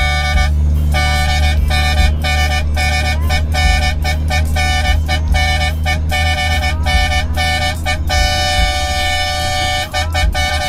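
A loud car horn honks over and over in a quick, patterned rhythm, short blasts broken by brief gaps, with an engine rumbling underneath.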